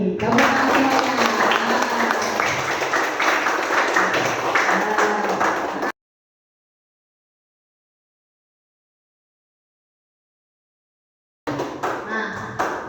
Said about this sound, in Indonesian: Mari kita tepuk tangan bersama untuk kinerja kelas kalian hari ini